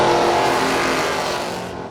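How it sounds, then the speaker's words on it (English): A Mustang drag racing car accelerates hard down the strip, a loud, dense engine roar that holds steady and then fades slightly as the car pulls away. "Mike Ritchie in the Mustang"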